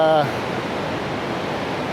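Whitewater rapids roaring through the Niagara gorge, a steady broadband rush of churning waves heard close and loud throughout, with a brief tonal sound at the very start.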